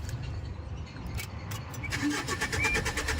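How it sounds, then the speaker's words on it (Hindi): A Tata Indigo car's engine is started with the clutch pressed, a low mechanical churn building into a starting engine with a rising hum near the end, close by under faint background voices. "एक क्लच दबा के स्टार्ट करो"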